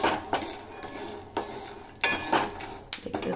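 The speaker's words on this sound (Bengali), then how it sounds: "আগে বাদামটাকে ভেজে নিচ্ছি পোহার জন্য।" Peanuts tossed in a pan for poha, with metal utensil scrapes and clanks against the pan in several distinct bursts and only faint frying beneath.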